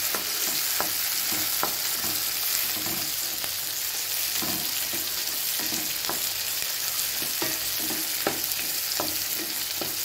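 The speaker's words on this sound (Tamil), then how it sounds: "இப்போ அதையும் சேர்த்துக்கலாங்க. இதையும் நம்ம வதக்கி விட்டுக்கலாங்க." Chopped tomatoes sauté in a pan for a tamarind-style kuzhambu, a loud steady sizzle with repeated knocks and scrapes from a stirring spoon.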